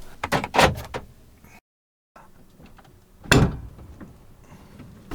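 Van doors being locked: a quick cluster of clacks and thumps, a brief gap, then one heavy latch thud followed by softer mechanical clicks, close by with no talk.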